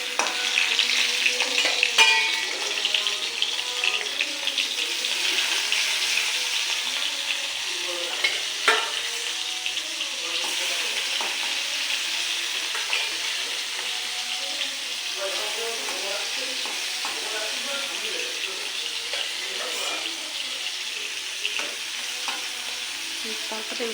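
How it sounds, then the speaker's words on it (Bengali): Fish frying in hot oil in a pan, a steady loud sizzle and hiss with occasional spatters and stirring scrapes running continuously throughout. "প্রথমে মাছগুলো ভেজে নেব।"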